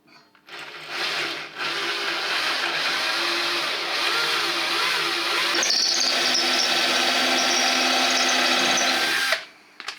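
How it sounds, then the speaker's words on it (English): A power drill bores a hole for the stern tube of a large scratch-built RC boat hull, starting with a brief burst and then whining steadily and loudly for several seconds before stopping abruptly, with no talking. "I will now attempt to drill a hole for the Stevens tube"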